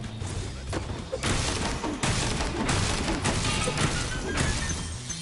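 Bentley, the hulking yeti from Spyro 3: Year of the Dragon, swings his club and smashes objects in repeated loud crashing impacts, several heavy bursts in a dense stretch of game noise.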